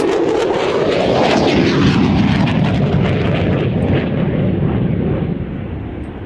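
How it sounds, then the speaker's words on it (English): An F-35B fighter jet roars past during a flying display at an aviation show, a loud, rumbling, crackling thunder that swells and then slowly fades as it moves away. "And here it is, the F-35B, and this was the very first demo of this aircraft."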